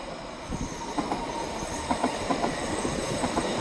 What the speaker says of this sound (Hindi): देखो कितनी लंबी लंबी ट्रेनें हैं